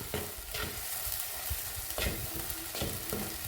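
Masala paste for a fish curry frying and being stirred in a pan, with a steady close sizzle broken by repeated scraping strokes of a spoon roughly every second, no voices.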